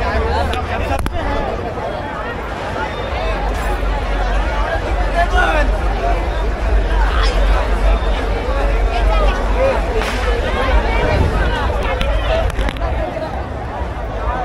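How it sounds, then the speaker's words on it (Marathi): A dense festive crowd fills Ram Maruti Road in Thane at a Diwali Pahat morning celebration, with loud continuous babble of many voices close around. "तर तुम्हाला गर्दी दाखवतो."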